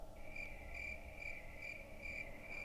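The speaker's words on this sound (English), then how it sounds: "Of course, I had to add in the little crickets." Crickets chirp in a Resident Evil video game environment, a faint, steady high-pitched trilling pulsing in regular short bursts over a low ambient hum, with no talking.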